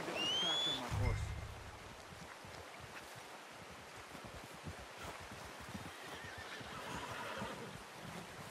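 A horse in the Red Dead Redemption 2 video game gives a short, loud whinny at the start, followed by outdoor rustling and soft ambient movement with voices talking in the background.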